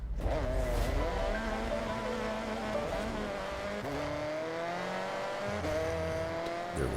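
A Ford Focus engine drones in Forza Horizon, its revs rising and falling through shifting gears with a buzzy, strained tone and brief tyre squeal, loud and close with no talking.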